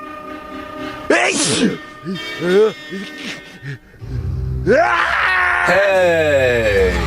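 A sharp sneeze bursts out in a Grand Theft Auto style game skit set in Ohio, followed by a shouted exclamation and drawn-out moaning, wailing vocal sounds.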